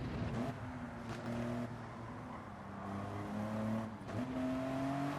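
A twin turbo GTO race car engine in the Gran Turismo video game on a Le Mans circuit, droning and revving steadily, with rising pitch and clear gear shifts, loud and sustained with no talking.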